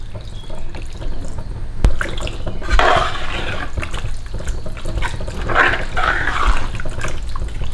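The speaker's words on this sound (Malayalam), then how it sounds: "ചൂടുവെള്ളമാണ് ഒഴിക്കുന്നത്" Hot water poured into a pan of chicken curry being made with coconut milk, a close splashing gush in a few bursts with some clinks, no speech.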